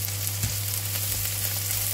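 Pork afritada with onion and garlic fries in a pan, a loud continuous sizzle close by with a soft stirring knock near the start, no talking.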